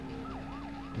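A police siren in the racing game Test Drive 5 wails in quick rising and falling sweeps over a low, steady engine drone, heard for one short moment.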